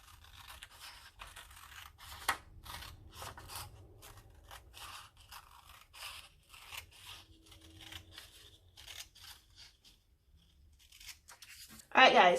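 Scissors snipping through paper pieces for a watermelon-style paper fan, a steady series of close, crisp cuts and rustles with a louder burst of paper handling at the very end.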